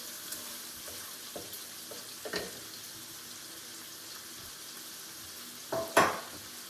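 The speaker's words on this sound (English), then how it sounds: "you want to cook this on low flame because you don't want to burn the bacon" Bacon fries on a low flame for a green bean casserole, giving a soft, steady sizzle with a few scraping stirs and one sharper clatter near the end.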